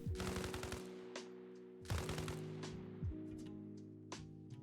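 Bursts of automatic gunfire in the video game Warlords 4 rattle against a vehicle hull, two long rapid volleys with short single shots between, up close and loud with no talking.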